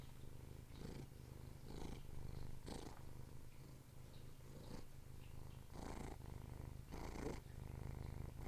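A diabetic pet cat purrs close up, a steady low rumble with rhythmic louder swells on each breath, intimate and continuous with no talking.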